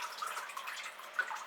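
Water drips and trickles from orchid potting media as it is lifted out of a container of water, a quiet, close patter with a few brighter drops.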